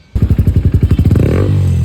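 A Bajaj Dominar 400 motorcycle engine, close by and loud, blips in a quick rhythmic burst of firing pulses, then holds a smoother rising rev to the end.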